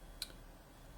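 A single soft mouse click on a computer, brief and quiet against a faint room hum.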